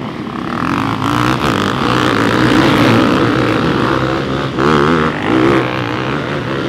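Enduro motorcycles at an enduro cup race in Frickenhausen roar at full throttle, several engines blending into a loud, continuous revving drone that rises and falls as the bikes pass.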